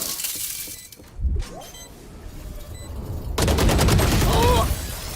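A grenade blast and bursts of gunfire in the tactical shooter Valorant, heard as a sharp impact followed by a sustained loud volley with metallic clinks, close and dense, under faint game ambience.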